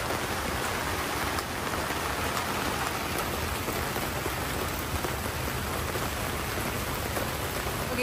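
Rain pouring down outdoors, a dense, steady hiss of drops striking surfaces that holds evenly throughout without pauses or voices.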